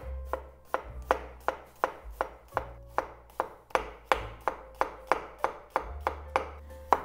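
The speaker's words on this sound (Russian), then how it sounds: "Лук нарезаем полукольцами." A knife slices an onion into half-rings on a cutting board, about seventeen crisp, evenly spaced cuts with no talking.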